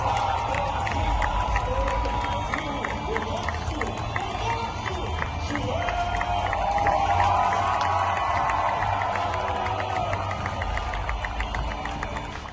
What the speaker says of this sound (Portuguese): A emoção da torcida é um negócio impressionante.